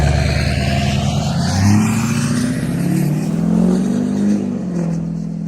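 A Powerstroke 6.0 diesel truck engine revs up and down through a 3 to 3.5 inch exhaust, a loud continuous drone rising and easing off twice, with a raspy, whooshing tone.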